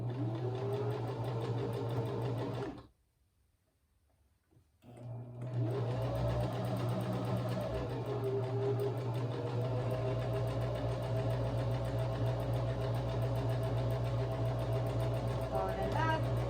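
A sewing machine stitches the crotch seam of upcycled cashmere sweater pants for a child, whirring steadily and close, pausing for a couple of seconds, then running continuously again, including a forward-and-back reinforcing pass.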